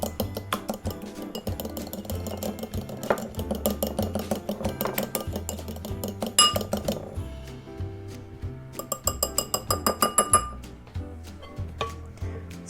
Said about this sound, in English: I'm just going to lightly beat these egg yolks here